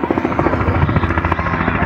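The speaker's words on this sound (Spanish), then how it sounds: "Y miren, ahí viene el helicóptero." A helicopter passes overhead at an outdoor Easter egg hunt in a park, its loud, rapid rotor chop pulsing steadily and close throughout with no talk.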